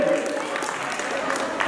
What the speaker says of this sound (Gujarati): હવે જોરદાર તાળી પ્લીઝ